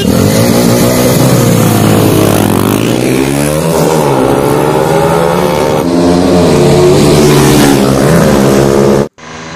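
A 220 BS4 motorcycle and a KTM Duke 200 BS6 drag race side by side, their engines revving loud and close through rising and falling gear-change sweeps before cutting off abruptly.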